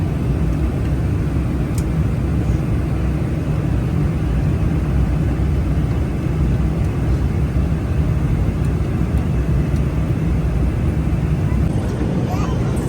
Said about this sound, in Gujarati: આ પ્લેન છે કે શું છે